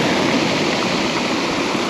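Calm sea waves washing onto the shore at Lazarevskoye, Sochi, a loud, steady broadband rush with no distinct breaks or voices.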